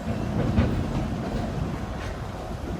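Steady low rumble and rolling clatter of a train pulled by an F9 diesel-electric locomotive with its matching B unit, heard from on board at the Colorado Railroad Museum, continuous and fairly loud with no talking.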